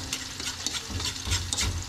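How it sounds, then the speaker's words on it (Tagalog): Garlic and onion sautéing in a pan for ginisang monggo with bagnet, a steady close sizzle with scraping stir strokes throughout, no voices. "Hintayin natin maluto yung bawang sibuyas"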